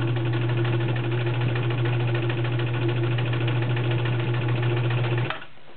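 A freshly serviced vintage Riccar RZ-415B zigzag sewing machine stitches at a steady, fast rhythm for about five seconds, loud and close, with a continuous motor hum, then stops abruptly.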